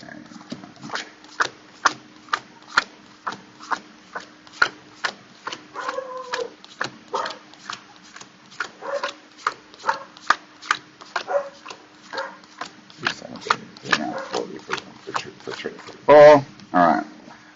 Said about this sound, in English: Let me just count these cards.